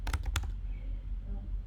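A few quick clicking keystrokes on a computer keyboard at the start, close and crisp, then a low steady hum with no further typing.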